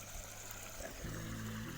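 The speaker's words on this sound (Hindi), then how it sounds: "ओह क्या पानी तेज तेज आ रहा गाइस" Water gushes hard while sheep are being washed, giving a steady, even rushing hiss that runs through the whole clip at a fairly low level.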